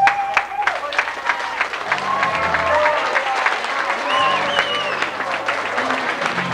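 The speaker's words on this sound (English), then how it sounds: "Will everyone who got one of these certificates please stand for applause?" A high school audience applauds standing certificate recipients, the clapping and crowd noise running throughout while voices and tonal sounds carry over the top of it.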